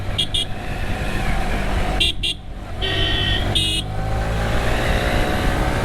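Car horns toot in short bursts, a quick double honk and then longer blasts, over a constant loud rumble of road traffic close by.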